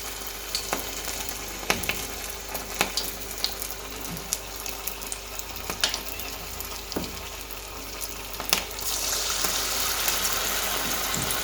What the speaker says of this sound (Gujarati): મિત્રો, આપણે હવે પકોડાને ઉતારવાની શરૂઆત કરીશું.